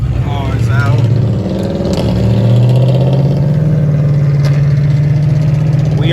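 An old school car engine rumbles loud and close, its low drone swelling as it is revved at a car meet, with voices talking over it.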